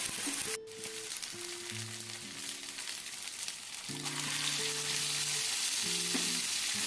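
Chicken goes into a pan of fried ginger garlic paste for chicken kurma, giving a sharp clatter followed by a loud, continuous sizzle that swells toward the end, with faint tonal beeps in the background.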